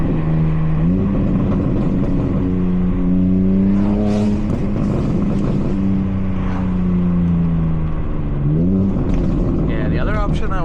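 A BMW G80 M3 LCI with secondary cat and resonator deleted and a CS flash revs loudly up close, its droning exhaust rising and falling with crisp, sharp pops and crackles between pulls, under a voice talking.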